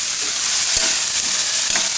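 Broccoli and cashews fry in hot oil with a steady, loud sizzle, broken by a few scraping stirs of a spoon in the pan.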